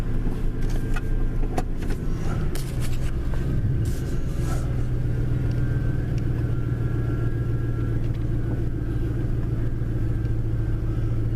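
A fuel-injected pickup truck, either a 1996 Tahoe, a 1997 F150 or a 1974 F250, runs with a close, steady engine rumble that carries some clatter early on as it backs out of a garage.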